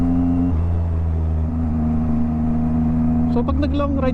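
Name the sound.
Yamaha MT-09 motorcycle engine accelerating in city riding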